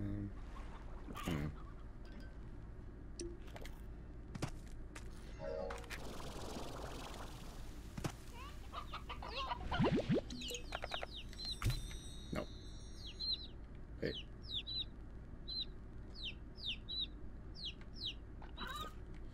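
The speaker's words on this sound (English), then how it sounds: "Chickens!" Chickens cluck in the video game Slime Rancher, with a run of short, high, repeated clucks and chirps in the second half following scattered clicks and thumps of gameplay.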